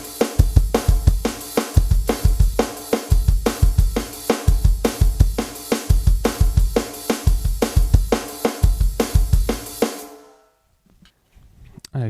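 Full drum kit groove at full speed with the hi-hat left open, a steady stream of hard, regular kick, snare and washy cymbal hits for about ten seconds before it stops and rings out.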